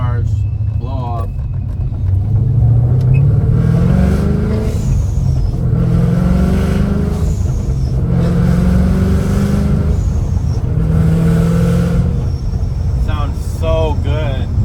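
A supercharged Ford Mustang GT runs through its gears, the exhaust roaring in repeated rising pulls, each shift broken by a sharp hiss of supercharger blow-off, loud and close from inside the car with a voice talking over it.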